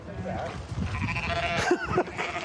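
Sheep bleating in a played clip of a farm scene, quavering calls rising near the end over steady background noise and overlapping talk.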